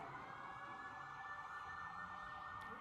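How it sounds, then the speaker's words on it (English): A steady emergency siren outside drones faintly in the distance, heard from inside a church, holding an even tone throughout with no other sounds. "when I start introducing you, the sirens come on."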